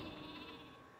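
Sheep bleat in the video game Flockers over steady, dense game background sound, a continuous level with no talk.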